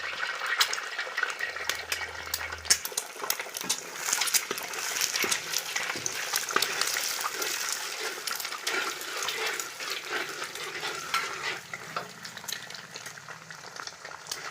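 Four eggs frying in hot oil while making restaurant-style chicken noodles, a steady close crackling sizzle with spattering pops throughout, no talking.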